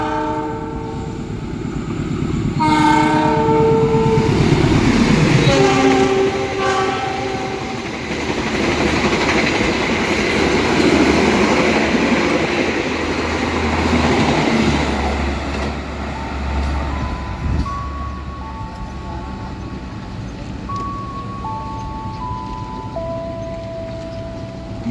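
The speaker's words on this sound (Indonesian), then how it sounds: "Jalur 2 melintas langsung Sang Raja Utara kereta api Argo Bromo Anggrek dari Surabaya menuju Jakarta" The Argo Bromo Anggrek express from Surabaya to Jakarta Gambir races through a station on track 2, its horn sounding in several blasts as the loud rushing rumble and rail clatter of the cars sweep past.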